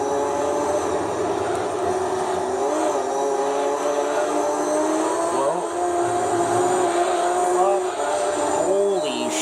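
A Lotus Esprit V8 SE mid-engine sports car races in Gran Turismo 3, its engine droning loud and steady throughout with rising and falling revs as it shifts through gears.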